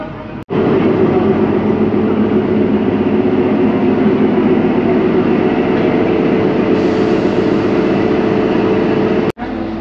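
A loud, steady low rumble of the Kalka–Shimla toy train engine idling nearby, constant throughout with a brief sharp click near the start and end.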